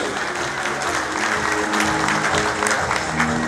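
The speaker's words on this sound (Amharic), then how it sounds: "አጨብጭቡላቸው ባካችሁ።" An audience claps steadily for a few seconds at a formal event, dense applause close by, with a faint hum or voice murmuring underneath.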